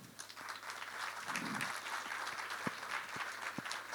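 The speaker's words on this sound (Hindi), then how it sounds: "तालियां थोड़ी कमजोर हैं" Thin, subdued applause from an audience at an interview event, scattered claps over a low murmur, fairly faint and uneven with a few sharper individual hand claps standing out.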